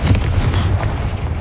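Bombarda and Confringo spell blasts go off in Hogwarts Legacy, a quick string of heavy, rumbling booms and blasts that are loud and close, with no pause between them.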